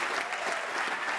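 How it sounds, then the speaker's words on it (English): Audience applause at a film screening, a steady, even wash of many hands clapping for a brief moment. "let's give him a round of applause"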